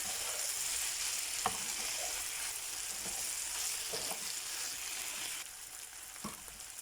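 Potatoes and vegetables sizzle steadily in a hot pan, frying loudly and continuously with a few scraping stir strokes scattered through.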